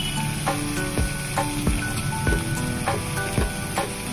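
Greens paste sizzles in hot oil and fried spice mix as it is sautéed, a loud, steady crackle of frying broken by regular scraping thumps of a spatula stirring the pan, with no one talking.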